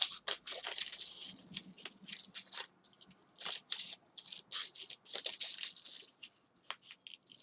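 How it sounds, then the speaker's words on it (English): Scissors cut all the way around a plastic water bottle in quiet, irregular crunching snips and crackles of plastic, heard up close and alone. "So you're just going to cut all the way around, just like so, all the way to that edge."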